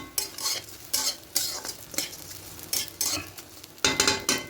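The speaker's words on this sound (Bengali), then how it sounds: "এবার চালটা দিয়ে খুব ভালো করে এটাকে ভাজবো" Rice being stirred and fried in a pan for rose pulao, the spoon scraping in repeated strokes over a soft sizzle, with occasional louder scrapes and clinks against the pan.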